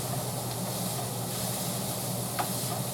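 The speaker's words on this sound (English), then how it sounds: "And so you want to stir it all around." Ground meat with taco seasoning sizzles steadily in a hot frying pan while being stirred, a constant close hiss with faint scraping.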